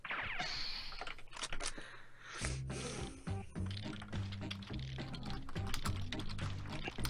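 Fast, continuous clicking on a computer keyboard as answers are typed for a Quiplash game, with close, crisp keystrokes in an uneven rhythm and no talking.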